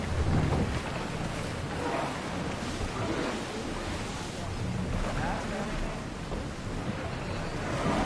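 A sailing ship underway at sea in the video game Assassin's Creed Odyssey: a continuous rushing wash of water and wind, fairly loud and steady throughout.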